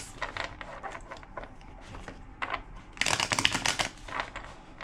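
Tarot cards shuffled by hand in quick riffling bursts, a soft rapid flutter that swells into a louder cascade near the end.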